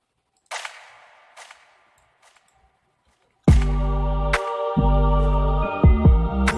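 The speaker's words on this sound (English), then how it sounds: "there's also this gunshot sound effect" A few sharp gunshot cracks with decaying tails, followed by a loud sustained tonal hit layered with further bangs, a processed gunfire sound effect used in a hip-hop beat made in FL Studio.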